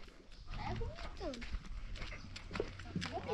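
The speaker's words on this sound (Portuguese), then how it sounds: "Tá com o doido com medo da égua andando pra cima" Hooves of a mare clop on hard ground at a walking pace, heard under steady nearby talking and some background noise.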